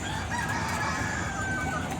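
Chickens on a poultry farm crow and cluck in a dense, steady din throughout, a crowded henhouse chorus with no talk over it.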